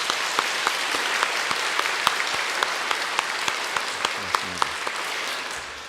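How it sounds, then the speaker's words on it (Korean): A church congregation at a 2020 deaconesses' retreat worship service applauds the choir conductor, a sustained, even roar of clapping with distinct louder individual claps popping out near the listener throughout. "우리 모두 위해서 한번 박수해 주시면 좋겠습니다"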